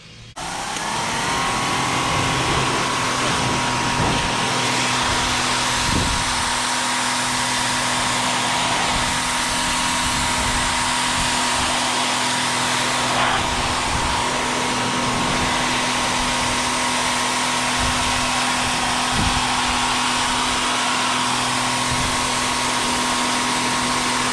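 A pressure washer with a 15-degree nozzle cleans mildew off a stone patio, producing a loud, steady, close spray hiss over a constant motor drone, with occasional shifts as the spray moves across the stone.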